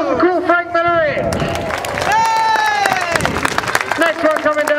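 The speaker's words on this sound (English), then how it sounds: "a big round of applause for cool Frank Millerick" At the Dunsfold 2010 Wings and Wheels air show, a crowd claps and cheers after a parachutist lands, with scattered clapping and a loud, echoing announcer's voice over it.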